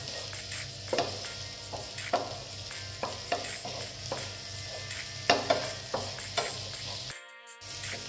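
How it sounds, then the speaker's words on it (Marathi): Green chilli, ginger and garlic sauté in a hot pan with a steady close sizzle, broken by repeated scraping stirs of a spatula and a brief drop-out near the end. "परतून घ्यायचं आहे, म्हणजे मिरचीचा, आल्याचा, लसणाचा पण मॉइश्चर कमी होईल"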